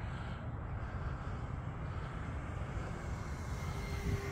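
An E-flite P-51D Mustang electric model plane on a winter day makes a half-throttle pass, a steady distant whine and airy drone under light wind noise, with no talk.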